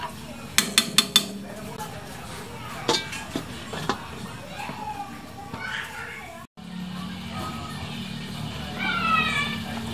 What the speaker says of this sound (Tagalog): Takpan po natin ulit.